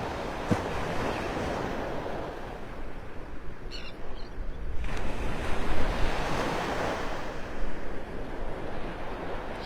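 Ocean surf rolling onto Vanderbilt Beach in North Naples, Florida, a steady broadband wash of breaking waves with gusts of wind across the microphone, continuous and fairly loud with no talking.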